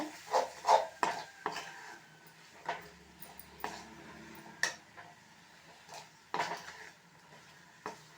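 Broad beans and egg stir-fry scraped and stirred in a pan, with irregular clinks and scrapes of a spoon against metal and a soft sizzle underneath, close and fairly loud in uneven bursts.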